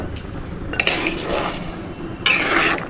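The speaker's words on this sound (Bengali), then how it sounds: "জলটা গরম হয়ে গেছে, ফুটতে লেগেছে। তো আমি সোয়াবিনটা দিয়ে দেব।" Soy chunks tipped into a pot of boiling water, clattering against the metal in two bursts of rattling and clinking over a soft bubbling background; no one speaks.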